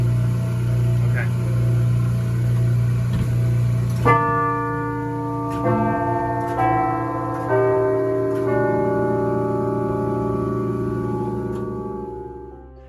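Deagan tower chimes on Catalina Island rung slowly and deliberately, a few loud bell tones each left to ring out and overlap, fading into a long decaying tail after some indistinct background noise at the start.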